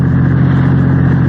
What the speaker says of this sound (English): Car runs nicely, doesn't it?